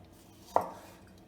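A single knife chop through a strawberry onto a cutting board, one sharp close thud in otherwise quiet surroundings.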